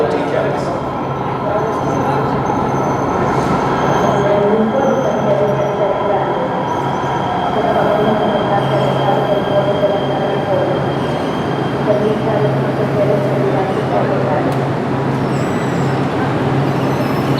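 An LA Metro E Line train rumbles into an underground station, a loud, steady roar of wheels and motors filling the space throughout, with people talking and announcements heard over it.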